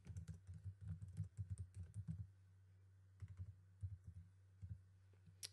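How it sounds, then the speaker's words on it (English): Text is typed on a computer keyboard in quick, soft clicking bursts, with a pause in the middle before another short run of keystrokes, close and quiet. "Click on Add Text, and type the text you require."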